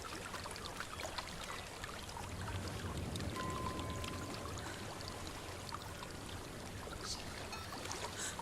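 Steady broadband rush of a waterfall in the Hellblade video game, a continuous wash of falling water with splashy high texture, moderately quiet and even throughout, no talking.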